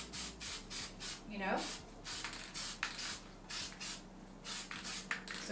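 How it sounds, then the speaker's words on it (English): Spray bottle spritzing onto a Christmas gift bag, a rapid run of about a dozen close, sharp hissing bursts in an even rhythm, with a brief spoken remark partway through. "just spritz in, and look, if I get it sprayed like that, it's okay"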